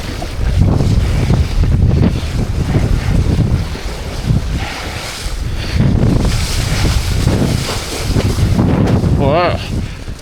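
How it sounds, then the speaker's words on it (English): Strong gusts of wind roar across the microphone while parawing on a single board over open water, a continuous loud buffeting rush with waves underneath. "Just waiting for a good gust."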